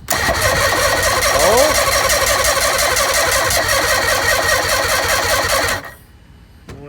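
A bass boat outboard engine cranks hard for about six seconds after a dose of starting fluid, a loud, rapid, rhythmic churning that never catches, then cuts out. Someone gives a short exclamation.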